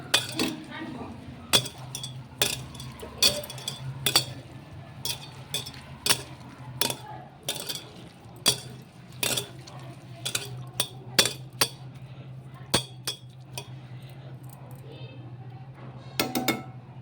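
A spoon clinks and scrapes against a metal vessel while mutton biryani ingredients are mixed together, sharp irregular taps spaced over a soft background hum.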